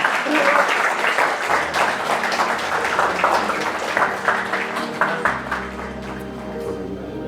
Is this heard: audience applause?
yes